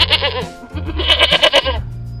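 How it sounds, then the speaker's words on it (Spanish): A goat bleats up close in quick, shaky calls, two or three trembling cries running almost together, loud and clear with no talking. "¡La cabra! Eso, muy bien, la cabra."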